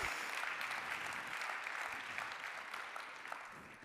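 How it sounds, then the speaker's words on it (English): Sustained audience applause at a festive evening event, dense steady clapping from a large crowd filling the room for several seconds with no talking over it. "And a big applause for Nils."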